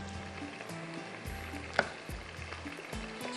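Green chilies frying in hot oil in a pan for a zeera chicken recipe, a steady soft sizzle with low stirring scrapes and a brief sharp click partway through, no talking.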